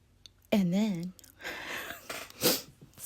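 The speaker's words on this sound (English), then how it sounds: "sorry, y'all, I got the sniffles" A few wet sniffles and short breathy snorts from a nose congested by a cold, close by, following a brief wavering vocal sound.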